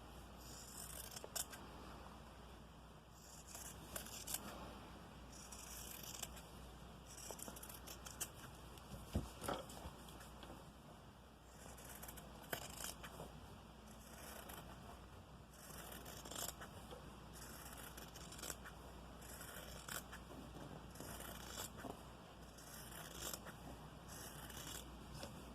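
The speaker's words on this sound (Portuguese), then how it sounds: "E agora, eu recorto nessa marcação com a tesoura reta." Straight scissors snip through embroidery fabric in a steady series of quiet, close crunching cuts, repeated every second or two with brief pauses between.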